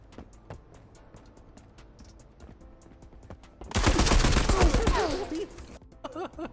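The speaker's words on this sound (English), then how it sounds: "The rate of fire and lack of recoil on this weapon makes it such a deadly gun" Rapid automatic rifle fire from a high-rate, low-recoil weapon in the video game Marauders, a loud sustained burst of shots after quieter in-game clatter and footsteps, followed by brief scattered sounds.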